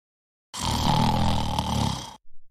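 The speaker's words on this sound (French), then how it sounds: "Qui ronfle dans ma classe" A loud, close snore from someone asleep in a classroom, one long rasping drawn-out breath followed by short faint puffs.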